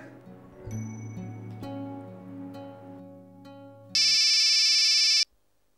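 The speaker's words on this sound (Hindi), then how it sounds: "अरे किसका फोन बज रहा है यार?" Gentle melodic mobile phone ringtone chimes play for a few seconds on a film set, then a sharp, loud electronic tone cuts in and stops abruptly.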